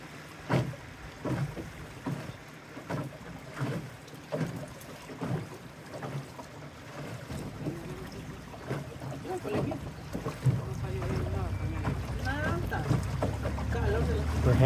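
A small boat on the Usumacinta River on the way to the Yaxchilan ruins in Mexico, with a low motor rumble and water noise rising into a louder steady engine drone, while people talk early on.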